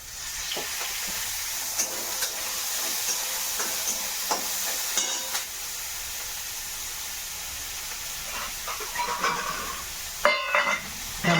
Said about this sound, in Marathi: कांदा भाजायला टाकली तेल टाकतो थोडं